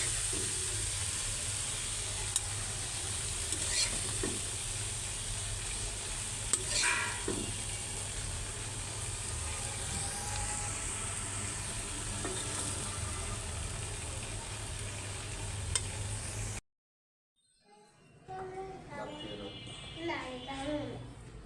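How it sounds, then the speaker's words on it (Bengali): Leafy greens (saag) fry in a home cooking pan with a steady sizzle for most of the stretch, then cut off abruptly, followed by a voice and other talk near the end. "শাক ভাজা হয়ে গেছে এখন নামাই দিই"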